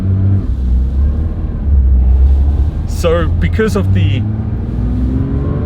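A Porsche 992 S/T with a lightweight flywheel runs on the Susten Pass mountain road, its engine note droning and rising in pitch, while someone speaks briefly over it midway.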